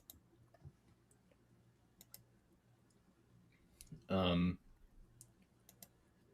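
A computer mouse clicks faintly and sporadically while someone works through a notebook, with one short louder burst partway through.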